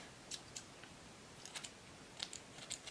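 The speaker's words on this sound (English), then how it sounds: "let's just cut that out" Scissors snip through a bald cap during a wig install, giving several quiet, sharp cuts spaced irregularly over a soft background hiss.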